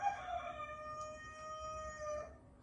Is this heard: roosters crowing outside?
yes